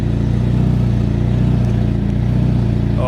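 Nissan S14 240SX engine idling steadily while warming up, a loud, close, continuous low rumble with a faint clattery texture and no voices.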